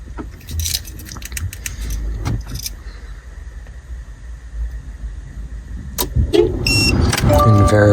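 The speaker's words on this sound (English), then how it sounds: "Turn the ignition off, remove the key, and activate the remote start." A 2015-2018 Subaru Outback 2.5i is started by remote start. Keys jangle with scattered clicks up close, then the engine catches near the end and settles into a steady idle.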